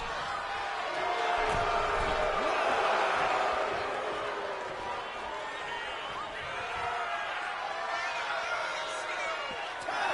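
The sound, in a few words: crowd booing in WWE 2K25 video game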